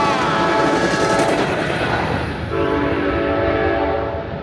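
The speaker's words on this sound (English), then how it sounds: "I was waiting on that train to come through." A very short train rolls through a small North Carolina town, its horn sounding loud and steady over the rumble of the cars as it passes close by.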